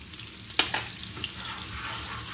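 Onions frying in a pot for tilapia stew give a soft steady sizzle, with a few sharp spatters and clinks early on.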